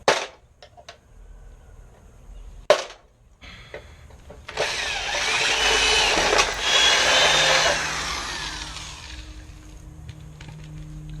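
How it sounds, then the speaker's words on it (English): Rivets being punched out of a window motor on a 1995 Chevy Silverado: a few sharp metallic knocks early on, then a long, loud grinding, drill-like whir near the microphone that fades toward the end. "I'm going to punch the centers out of them, just like before."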